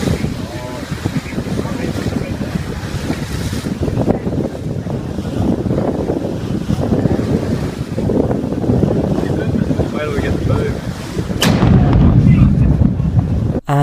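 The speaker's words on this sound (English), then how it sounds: "In 2014, this volcano exploded in Papua New Guinea and it created a huge shockwave." A 2014 volcanic eruption in Papua New Guinea sends out a shockwave heard as a loud, continuous rumbling roar with heavy wind buffeting. A stronger blast of noise arrives near the end.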